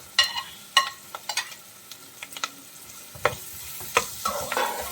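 Three-colour capsicum being sautéed in a pan for chilli gobi, with intermittent scraping stir strokes and soft sizzling, loud clacks at irregular intervals, and no talking.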